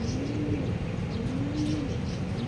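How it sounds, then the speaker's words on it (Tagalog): A racing pigeon coos softly at a club training session in Pagsanjan, Laguna, with low repeated murmuring calls under steady outdoor background noise. "Meron tayong ibon nagbabalik, si Patoline."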